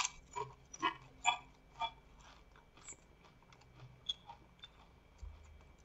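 Faint, close crunching of hard Ketchup & Mustard Doritos corn chips being chewed, a handful of sharp bites and crackles spaced irregularly over a quiet background, with no talking.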